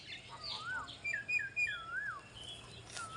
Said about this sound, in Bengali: আমরা শুনতে পাচ্ছি কোকিলের ডাক